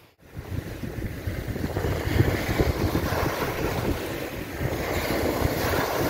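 Steady wind gusting hard against the microphone by the sea, a continuous broadband roar with a faint wash of water beneath, no voices.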